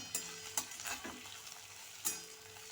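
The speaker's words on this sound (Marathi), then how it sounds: "आलं लसणाची पेस्ट टाकूया." Ginger-garlic paste stirred into a hot pan of vegetable pulao, a soft continuous sizzle punctuated by a few sharp clicks of a spoon against the pan.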